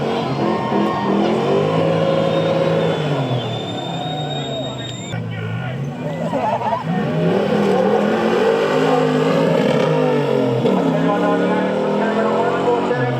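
Lexus LX570 and Toyota 200 series 4WDs racing on a drag strip, engines roaring continuously and loudly, with a commentator talking over the top throughout.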